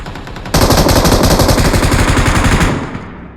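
Automatic gunfire in the mobile battle royale game BGMI (PUBG Mobile) rips out in a loud, rapid, sustained burst of shots after a brief quiet start, then tapers off near the end, with no talking over it.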